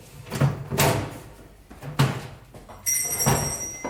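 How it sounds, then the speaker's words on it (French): An oven door in a domestic kitchen is pulled open with a couple of soft clunks and a creak, and a thin metallic ring follows near the end. "Laissez-moi ouvrir la porte du four"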